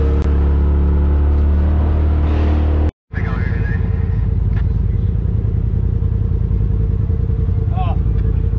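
Dirt bikes running on a short-course racing track after a race, giving a loud continuous engine rumble and drone that cuts out for a moment, then resumes, with people talking over it.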